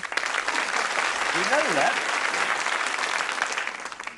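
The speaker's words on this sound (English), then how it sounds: "Now that one deserves a round of applause." Studio audience applause on a comedy quiz show: steady, dense clapping fills the whole stretch at moderate loudness, with a brief spoken question rising over it midway.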